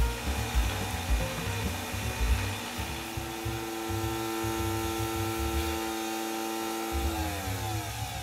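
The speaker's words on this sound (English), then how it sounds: "Push the button to rinse the machine." A Nespresso VertuoLine coffee machine in descaling mode runs its rinse cycle with a steady, loud mechanical hum and pump buzz that continues unbroken, with a slight shift in pitch toward the end.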